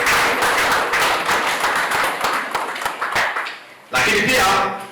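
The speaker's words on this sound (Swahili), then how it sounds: "Tumpige makofi mengi." Audience applause at a district health department report meeting in Ruangwa, a dense wash of clapping for about four seconds that fades and then surges loudly again near the end.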